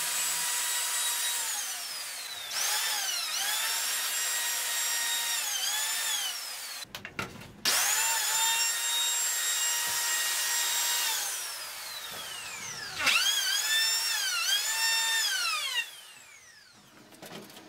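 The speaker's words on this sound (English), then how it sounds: "I used a router to smoothen the edges." A handheld wood router runs in long steady bursts while smoothing the edges of a wooden frame for a children's roller slide, whining loudly with pitch dips as it bites into the wood, separated by short pauses.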